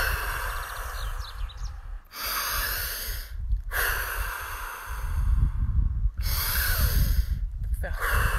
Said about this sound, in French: Vous prenez 3 grandes respirations.